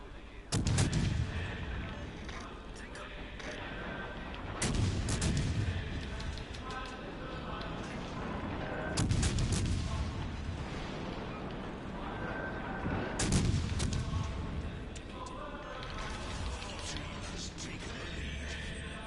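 Heavy naval gunfire booms in a warship video game, four big salvos spaced several seconds apart with rumbling tails, over a continuous bed of game sound.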